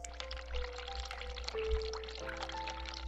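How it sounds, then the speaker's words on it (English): In The Cat Lady, a hot water tap runs into a bathroom sink, a steady pouring splash over low ambient drones and humming tones, fairly quiet and with no talking. "Run the hot water tap."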